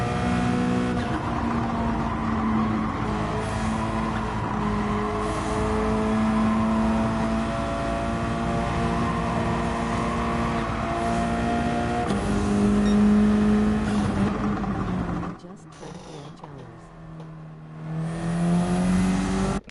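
Race car engine in Gran Turismo 7 held at full throttle, a loud steady drone with rising harmonic pitch as it pulls, then a brief drop and quiet gap near the end before revving back up.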